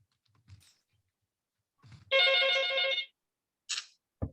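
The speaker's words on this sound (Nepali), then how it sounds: "जसले फोनको आवाज सुनाइरहेछ क्या फोन बन्द गर्नुहोस्" A phone rings once in a short electronic burst, loud and close, during an accounting class, surrounded by quiet clicks and brief taps.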